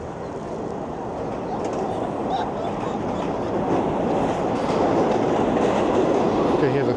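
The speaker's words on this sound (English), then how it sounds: "Hear the train down below me." A subway train rumbles below a Manhattan street, a loud, steady low roar with faint clatter that builds slightly toward the end, heard without talk.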